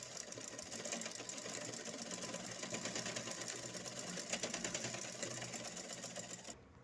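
A sewing machine runs continuously, stitching elastic onto pants with a fast, even whirring hum close by, then cuts off abruptly at the end; no talk.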